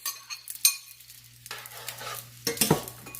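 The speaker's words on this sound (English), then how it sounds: "you can go ahead and add your chopped veggies in and start sauteing those" Chopped vegetables sautéed in melted butter give off a faint, crackly sizzle with a few louder scrapes and stirring clacks near the start and end, alongside a steady low hum.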